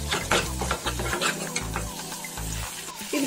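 Mushroom gravy masala paste frying in a pan while being stirred, with rhythmic scraping strokes over a continuous sizzle, close and moderately quiet, no talking.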